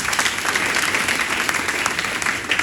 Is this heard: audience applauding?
yes